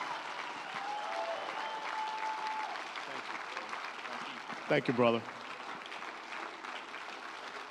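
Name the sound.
church audience applause welcoming a guest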